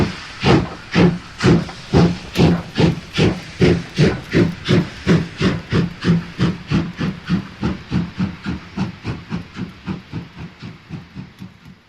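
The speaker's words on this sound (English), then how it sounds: "Hearing the steam chuff as it pulled away after the station stop" German steam locomotive chuffing in strong, regular bursts that gradually quicken and fade slightly as it pulls away from a station stop, each puff a loud hissing blast.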